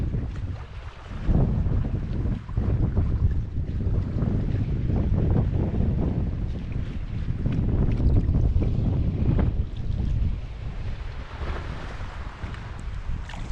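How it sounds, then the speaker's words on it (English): A paddled boat moving at a leisurely pace along the southern shore of the island of Ulva, with steady water sloshing and strokes under strong wind noise on the microphone, continuous and close. "So basically what I'm doing is just paddling at a very leisurely pace along the southwestern or the southern shore of the island of Ulva"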